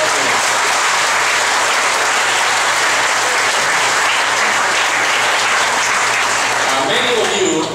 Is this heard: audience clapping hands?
yes